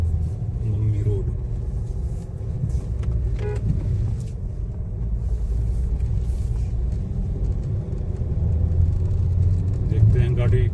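A car drives up the road toward the Gyo Monastery parking area in Spiti, with a continuous low engine rumble. Someone talks over the engine noise.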